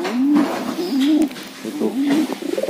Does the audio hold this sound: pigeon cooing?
yes